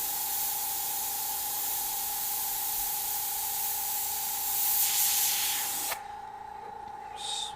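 An airbrush spraying paint freehand for fire and skull artwork, a continuous close hiss with a steady compressor hum beneath, briefly louder before cutting off to quieter short bursts.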